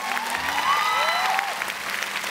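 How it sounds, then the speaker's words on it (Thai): Loud, dense applause from an audience at a charity shirt auction rolls on without pause, with a few whistles or cheers rising above the clapping. "ปรบมือให้ทุกคนที่นี่ครับ"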